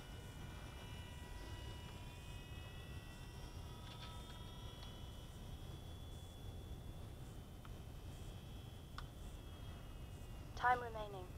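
A UMX Radian RC glider airplane makes a slow flyby, its faint, thin electric motor whine holding steady over a soft wind-like background, with a brief louder chirp near the end.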